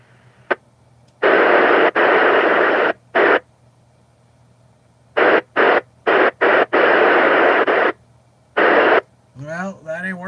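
Bursts of radio static on an amateur radio repeater with no voice modulation, several hiss-like blocks switching on and off irregularly, followed briefly by a person starting to talk.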